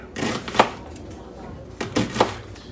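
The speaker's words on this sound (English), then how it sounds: "I'll try to cut them thinner than I cut them for the cheeseburgers" A knife chops and slices vegetables on a cutting board during meal prep, with two short clusters of close, crisp cuts and a brief pause between them.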